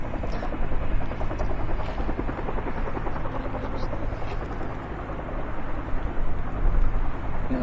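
A Huey helicopter at Lanzarote Airport in the Canary Islands, its steady rotor thrum and turbine roar holding at a moderate distance throughout, with no talk over it.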